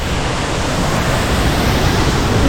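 Gitgit Twin Waterfall in Bali roars as a steady, loud wash of falling water mixed with gusting wind buffeting the microphone, with no voices.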